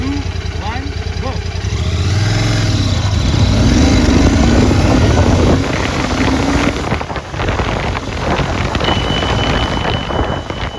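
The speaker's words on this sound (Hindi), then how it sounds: "इस बाइक के साथ करते हैं 0 to 80" A Royal Enfield Continental GT cafe racer motorcycle carrying two riders accelerates hard, the engine note rising through the gears amid heavy wind buffeting, with a voice speaking over it.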